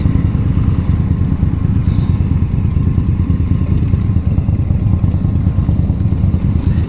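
A 2018 Indian Scout Bobber motorcycle idles close by, its exhaust a loud, steady low rumble with an even pulsing throb and no speech.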